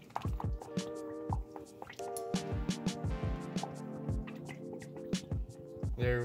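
Teriyaki marinade squirted from a bottle over raw meat for jerky, with wet squishing drips and splats, close and fairly loud, mixed with light clinks and tonal background music throughout.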